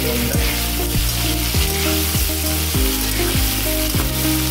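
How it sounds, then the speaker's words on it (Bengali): Crabs seasoned with salt and turmeric frying in a pan, producing a loud, continuous sizzle with repeated scraping stir strokes through it. "আমি এটা এখন ভালো করে ভেজে নেবো কাঁকড়াটা"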